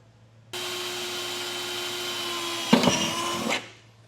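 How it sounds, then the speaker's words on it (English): A power drill bores 1/8 inch pilot holes through the frame of a 2024 Ford truck, whirring at a steady pitch. Near the end the tone turns rougher and louder, then the drill stops abruptly. "we're going to just put small 1/8 inch pilot holes through the remaining marks that we made"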